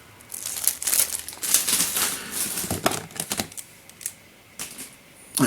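Plastic bag crinkling and rustling as puzzle cubes are unpacked, a run of close, irregular crackles and crisp crumpling bursts that thin out and pause before a final rustle.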